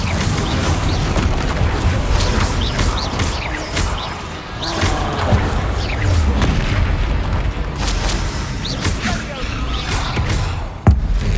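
A Bombarda explosion spell in Hogwarts Legacy lands amid a busy battle, with deep booms, whooshes and mechanical clatter layered over continuous combat noise and brief voices, plus a sharp thump near the end.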